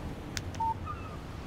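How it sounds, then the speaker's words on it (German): Brief electronic phone alert chimes for an incoming text message in the video game Alan Wake, two short tonal beeps over a low steady hum, with no talking. "Eine SMS von Barry."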